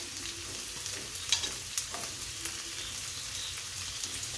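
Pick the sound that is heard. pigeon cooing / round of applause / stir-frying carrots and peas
stir-frying carrots and peas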